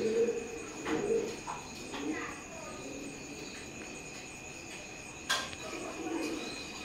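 Teddy pigeons of an imported Oman bloodline cooing softly in a few short, low, throaty bursts spread across the clip, set against a faint hiss and a high insect-like hum.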